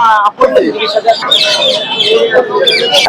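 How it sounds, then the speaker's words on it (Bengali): Caged birds chirp and call in quick, bright bursts at the Mirpur 1 bird market, close by, with people talking in the background. "আরো একটি অনেক সুন্দর পাখি"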